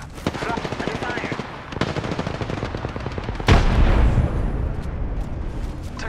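Rapid automatic gunfire in the Apex Legends video game, loud and close, with bursts of shots and a heavy blast-like impact partway through, while game voice lines speak over it.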